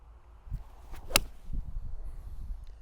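A TaylorMade P790 hollow-body iron strikes a golf ball and cuts through the turf on a course. It makes a single sharp, crisp clip followed by a soft whoosh, with a little quiet outdoor ambience around it.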